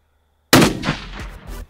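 A single sharp rifle shot cracks out close by during load development at a range, followed by a short echoing rumble that quickly decays.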